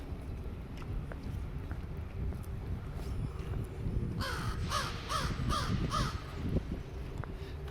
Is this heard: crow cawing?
yes